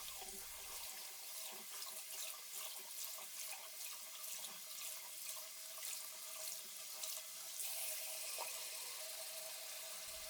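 Used polishing pads being rinsed and washed under a running tap, a steady close splashing stream of water hissing into a sink without pause for the full length, with no voices.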